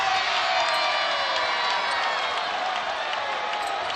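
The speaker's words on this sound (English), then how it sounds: "Charlie Noble gets the loudest applause here at Matthew Knight Arena" A large indoor basketball crowd at Matthew Knight Arena roars and applauds continuously during a Utah vs Oregon game, a dense wash of cheering and clapping at steady loudness throughout.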